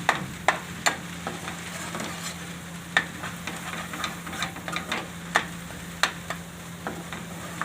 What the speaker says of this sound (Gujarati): હવે આપણે આમાં ચણાનો લોટ શેકી નાખશું, કેમ કે ડુંગળીની હારે સરસથી ચણાનો લોટ શેકાઈ જાય.